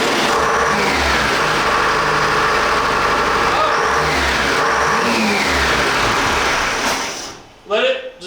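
A 212 ci engine on a dyno runs loud and close with a rough, steady roar and some revving, under occasional talk, then cuts off abruptly near the end.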